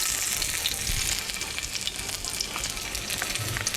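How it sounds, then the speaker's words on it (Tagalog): Garlic and ginger sizzle in a hot pan as they are sautéed for beef skin curry, a close steady frying crackle with light stirring scrapes. "Sasabay na kaagad ang bawang. Gisa-gisat."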